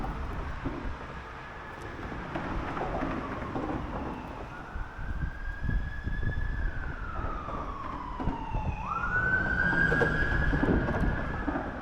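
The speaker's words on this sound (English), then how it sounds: "I don't know if you guys heard that siren." An ambulance siren wails in the distance, its tone rising and falling slowly, growing a little louder over a low outdoor rumble.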